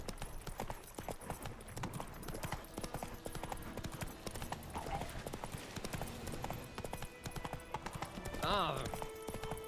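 Roach, the horse in The Witcher 3, galloping with a steady rapid clip-clop of hooves, running continuously under busy game sound and chatter, with a brief whinny near the end.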